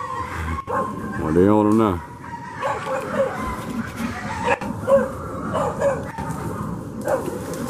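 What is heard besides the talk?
dogs barking at hogs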